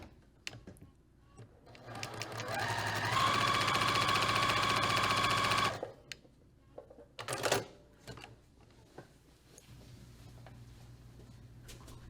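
A sewing machine runs in a steady rapid burst of stitching for several seconds while joining quilt pieces, then stops, followed by a few scattered clicks and handling noises in a quiet room.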